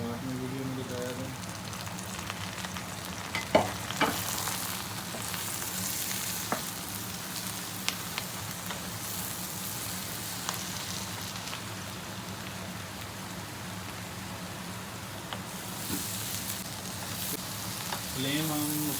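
Eggplant and tomato frying in a pan with lightly browned onions for a potato-eggplant curry, a steady close sizzle and crackle running throughout with a few sharper pops and stirring clicks.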